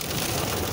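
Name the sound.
heavy rain hitting car while driving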